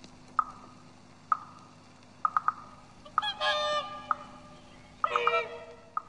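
A swan honks repeatedly at irregular intervals, short sharp calls with a couple of longer, rougher honking bursts, moderately near.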